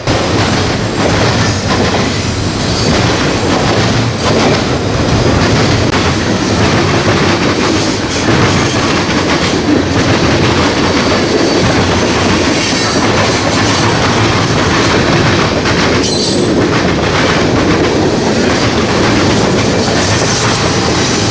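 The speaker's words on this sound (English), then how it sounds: "the northbound train the dispatcher was holding down there at Troyton makes its appearance" Norfolk Southern northbound freight train number 178 rolling past at close range, a loud, continuous roar of wheels and rail clatter with rhythmic clicking and brief high squeals, steady throughout.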